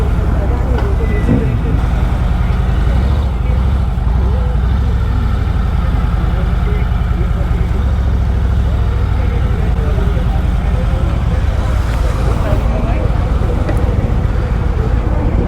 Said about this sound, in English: It's a 107-inch engine. It doesn't matter how heavy the bike is, but it just flies.